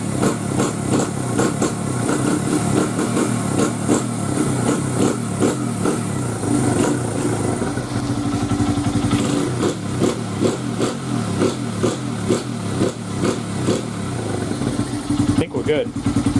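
Engine of a street-legal dirt bike after a top-end rebuild, revving hard and loud up close in repeated throttle blips and sustained runs, with a voice talking over it.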